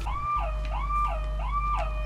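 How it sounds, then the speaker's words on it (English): A looping alarm siren wails inside the Xbox One game Vigor, rising and falling in steady, even sweeps over a low droning hum, loud and sustained with no talk over it. "Alarm's going off"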